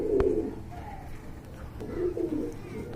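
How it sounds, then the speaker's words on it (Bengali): Pigeon pair at a market cooing, two soft low warbling coos about two seconds apart, close by over a quiet background with a brief click. "মাশাআল্লাহ খুবই সুন্দর একটা পেয়ার, চাওয়া দাম হচ্ছে 1800 টাকা।"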